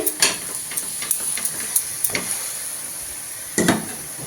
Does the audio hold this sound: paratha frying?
yes